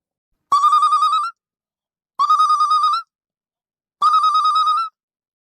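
A phone ringtone rings three times, each bright warbling burst lasting under a second, separated by short silent gaps.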